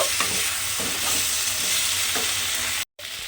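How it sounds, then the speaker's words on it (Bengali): Ground spices frying with ginger paste in a hot pan for a kohlrabi dish, a steady loud sizzle with rhythmic scraping strokes of a spoon stirring through it and a brief gap near the end. "এবার সমস্ত গুঁড়ো মশলা দিয়ে আমি কিন্তু খুব ভালোভাবে একটু কষিয়ে নেব।"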